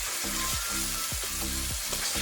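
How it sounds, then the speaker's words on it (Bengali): Spice paste fries with a little water in a pan, a steady close sizzle broken by rhythmic scraping stirs roughly every half second, with no voices. "মশলাটা ভাজতে একটু অল্প পরিমাণ জল দিয়ে ভালোভাবে মশলাটাকে কষিয়ে নেব।"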